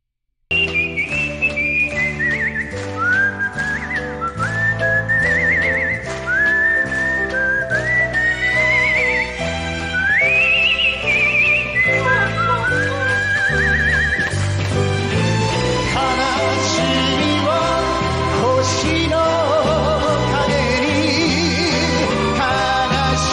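Melodic whistling from a song weaves sliding, warbling notes over a full musical backing, continuous and prominent for the whole stretch.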